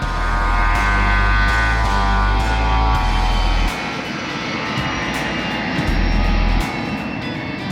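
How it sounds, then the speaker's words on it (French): Firefighting airplane skimming low to scoop water, its engines roaring loud and steady with a droning tone that drops partway through and swells again near the end. "C'est la façon dont cet avion recueille l'eau pour éteindre les incendies."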